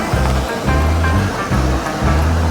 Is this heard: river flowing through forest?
yes